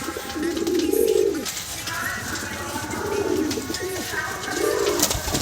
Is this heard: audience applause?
no